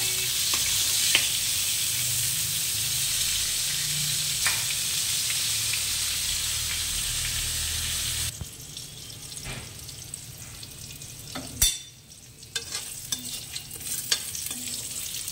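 Whole pointed gourds fry in a pan with poppy seeds, black cumin and green chillies, giving a continuous close sizzle with repeated stirring scrapes and clatters that grow sparser and sharper midway.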